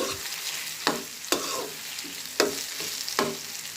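Green papaya bhaji stir-fried in a pan, a steady sizzle broken by four or five sharp spatula scrapes and clacks at uneven intervals, close and moderately loud, with no talking.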